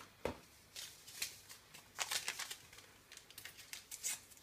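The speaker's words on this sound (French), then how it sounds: "Aujourd'hui, je vais mettre 4 sachets de sucre vanillé." Paper sachets of vanilla sugar crinkle and rustle close up while being torn and emptied, a series of soft irregular scratchy bursts with short gaps, quiet throughout.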